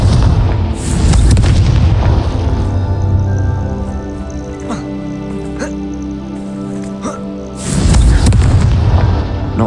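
Fiery Confringo spell blasts in the Hogwarts Legacy video game, two loud booming bursts near the start and end with rumbling, crackling debris and game sound filling the middle, no talk heard.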